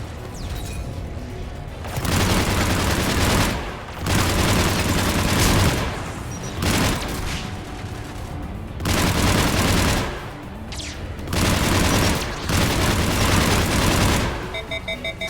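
Sustained bursts of heavy automatic turret machine-gun fire in a Mass Effect Legendary Edition firefight, loud and close, coming in long volleys separated by brief pauses.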